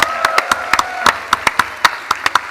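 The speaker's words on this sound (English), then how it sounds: "So please help me in giving him a warm round of applause." Audience applause at a live gaming expo panel, sparse and distinct claps coming in a steady patter from a small group, close and fairly loud.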